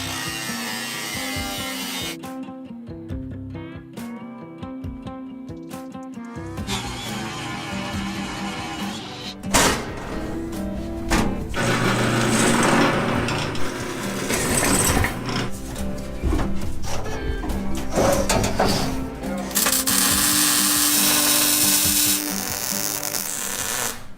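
Power tool cutting out the rusted, thin, holed metal floor of an off-road wrecker's cab, loud and close, with a harsh, continuous whining grind that changes pitch as the cut progresses.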